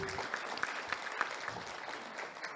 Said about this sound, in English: A better hand clap for Mary.